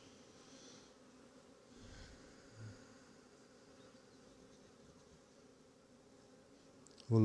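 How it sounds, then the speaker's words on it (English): Honey bees swarming around an open hive during a transfer into a horizontal hive, a steady soft buzz of many returning workers throughout, faint and continuous, with a brief low thump near the end. "now at this point we've got a lot of returning bees"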